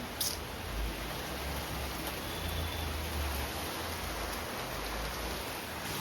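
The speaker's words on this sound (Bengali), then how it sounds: "এদিকে বৃষ্টি পড়ছে" Steady rain falls outside a house during hot weather, a continuous soft hiss of drops on surfaces with a faint low rumble, even and unbroken throughout.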